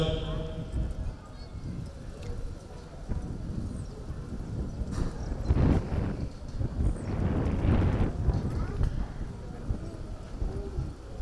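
Horse hooves clip-clop over arena ground at a show event, an uneven run of muffled thuds under gusts of wind noise and a voice on a loudspeaker.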